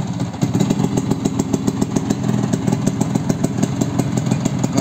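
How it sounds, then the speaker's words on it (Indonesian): A Vespa Spartan P200XE scooter engine idles steadily nearby, its rapid, even putter continuing throughout without a break. "suara mesin seperti ini"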